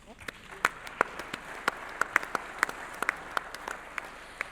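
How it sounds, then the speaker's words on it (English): An audience at a conference on African digital economy applauds, sparse scattered claps ringing out one by one at a moderate distance over a low murmur of voices. "I think we deserve a round of applause"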